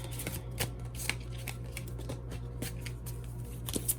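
A Psychic Tarot of the Heart card deck is shuffled close up, with repeated crisp riffling snaps and soft card slaps over a steady low hum, no talk.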